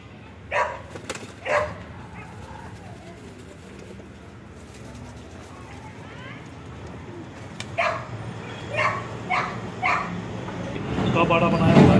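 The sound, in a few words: pigeons cooing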